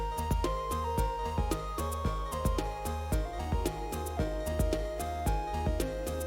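A secret music disc from Minecraft Legacy Console Edition, heard after another disc: a steady electronic tune with regular percussive hits and a wandering synth melody, evenly loud throughout.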